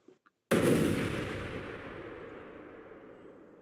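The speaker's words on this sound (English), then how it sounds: "Let me get an explosion on that there." A single deep boom of an explosion sound effect hits suddenly after a brief pause, then its heavy rumbling tail fades away slowly over the next few seconds.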